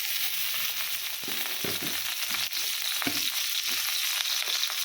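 Chopped onion, dried chillies and bay leaves fry in hot oil in a pan, giving a loud, steady sizzle with faint stirring scrapes and no talk.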